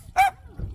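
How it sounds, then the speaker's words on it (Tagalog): A single short bark from one of a household's several dogs, brief and fairly close, followed by low rumbling background noise. "Ito yung mga aso niya."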